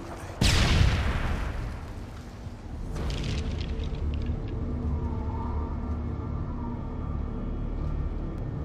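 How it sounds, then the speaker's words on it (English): A stun grenade goes off in an Afghanistan-set video game with one sharp, loud bang, followed by a ringing, roaring aftermath and a second smaller burst before settling into a steady background rumble. "Throwing stun grenade."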